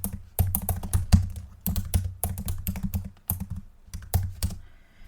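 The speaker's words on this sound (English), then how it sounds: "So I just typed in Sailor Moon Crystal controversy" Rapid keystrokes on a computer keyboard as someone types out a search query, a close, busy clatter in uneven bursts with brief pauses, no voices.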